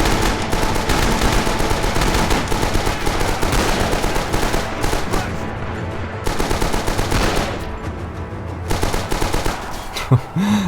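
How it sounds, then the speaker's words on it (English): MG machine gun in Red Orchestra 2 Rising Storm, Pacific Theater setting, firing long loud sustained bursts of rapid automatic gunfire at close range with short pauses between volleys. "Now I'm just going to show you how to best use an MG here"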